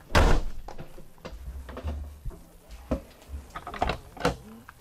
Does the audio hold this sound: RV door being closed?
yes